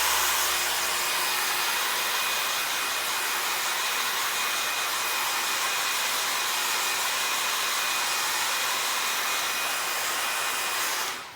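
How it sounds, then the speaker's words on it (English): A hairdryer blows steadily at close range, drying a base coat of leather colourant on an upholstered surface such as a car seat, sofa or jacket, a constant loud broadband whoosh that runs unbroken for about eleven seconds before cutting off. "So we'll just give that a quick dry with the hairdryer, just to dry that off."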